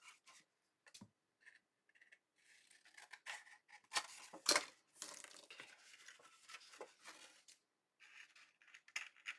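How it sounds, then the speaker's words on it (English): Scissors trim paper for a Halloween junk journal, giving quiet, close, irregular snips and rustles separated by short pauses. "I'm going to trim this one just a little bit here"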